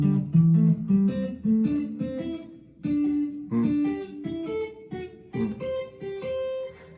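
Electric guitar, lightly distorted, playing a solo line that jumps around the scale in intervals of a fourth, with distinct plucked notes in a steady, lively rhythm, close and loud with no talking.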